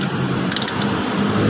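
A hand ratchet wrench clicks rapidly while tightening a clutch lining assembly during a transmission pull-down, with a dense burst of metallic clicks midway over a low mechanical rumble.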